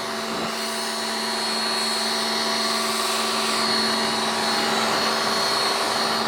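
A pressure washer blasts bugs off a car bonnet, giving a steady, loud hissing spray with a constant whining pump tone underneath. It holds unbroken for the whole stretch, with no talking.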